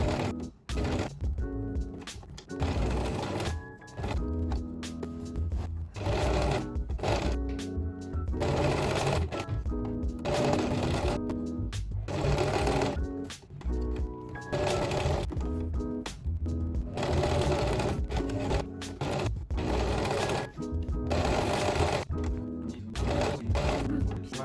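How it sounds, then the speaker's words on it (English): Sewing machine topstitching around the armholes of an oversized 80s-style vest, running in steady bursts of rapid needle chatter with brief pauses between runs, close and clear with no talk. "The last thing I need to do is to top stitch the armholes."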